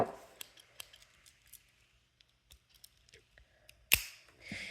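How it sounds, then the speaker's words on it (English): Small scissors on a Victorinox Super Tinker pocket knife snip and click in quiet, scattered bursts up close, ending with a sharper snap and a brief rustle. "we have some scissors, which are always great because the Victorinox scissors are always great."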